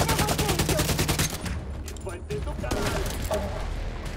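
Rapid automatic gunfire from a firefight in the co-op shooter video game The Division 2 rattles in a dense burst, then continues as scattered, quieter shots while a player talks.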